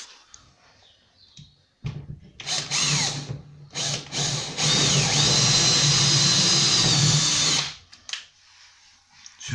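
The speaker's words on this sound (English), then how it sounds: "I think I'm going to drill some holes through here so that I can just get my screwdriver straight through" Power drill boring holes through a kitchen cabinet during fitting: a few short whirring bursts, then one long, loud, steady high-pitched drilling run of about three seconds, followed by quieter handling noises.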